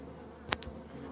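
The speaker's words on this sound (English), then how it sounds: "buzzy though, and there's lots of bees in there" Honeybees hum around wrapped backyard beehives prepared for winter, giving a steady low buzz through a short stretch, punctuated by a couple of brief sharper passes close by.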